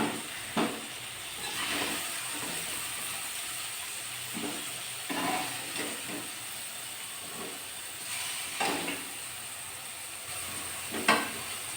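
Red chillies frying in groundnut oil, a continuous close sizzle and hiss broken by repeated scraping bursts of stirring at irregular intervals, with no talking.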